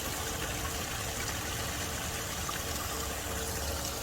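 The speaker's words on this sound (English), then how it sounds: "I love just the sound of the water. I mean, listen, it just sounds so peaceful." Steady trickling and splashing of a garden water feature outdoors, a constant gentle flow without pauses, fairly close and with no voices over it.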